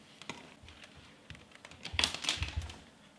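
A few scattered keystrokes on a computer keyboard, close but quiet, with a small cluster of louder taps near the end in an otherwise calm room.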